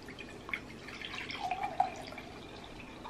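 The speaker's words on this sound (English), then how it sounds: "We're gonna be drinking strawberry lemonade. All right, let's go ahead and pour that up" Strawberry lemonade is poured into a glass, a short liquid trickle with a few splashy drips, close and fairly soft, with no talking.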